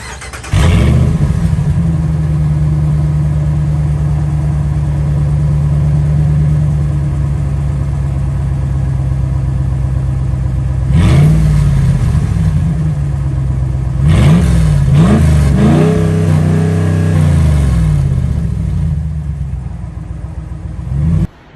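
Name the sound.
Dodge Ram Hemi engine with exhaust cutouts open, idling and revving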